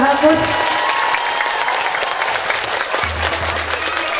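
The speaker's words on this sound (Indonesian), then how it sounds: "Saya minta tepuk tangan dulu dong buat Perhamus." Applause from an audience at a religious gathering in a mosque, a dense wash of clapping that holds steady, then a low tone enters near the end.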